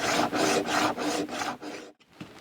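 Metal file rasping material off a gun's dovetail in about six quick, even back-and-forth strokes, close and loud, then a short pause and a faint final scrape.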